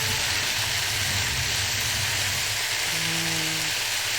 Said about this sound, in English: If the sizzle is annoying